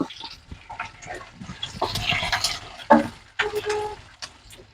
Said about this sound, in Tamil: வெங்காயம் நல்லா வதக்கலாம்